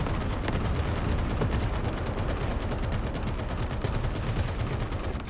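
M2 machine guns on an M13 self-propelled anti-aircraft vehicle fire in War Thunder, a dense, unbroken stream of rapid shots that roars steadily and loudly throughout without pause.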